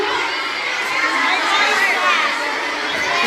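Girls at a school science culminating activity get a loud, continuous burst of crowd cheering and children's shouting with applause, broadband and steady throughout, the room full of excited young voices.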